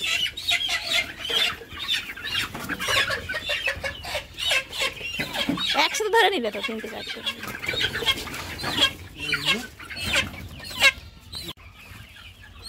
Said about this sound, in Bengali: তো আমাদের টুসুদি এবার একটা একটা করে মুরগি ধরবে ভ্যাকসিন দেওয়ার জন্য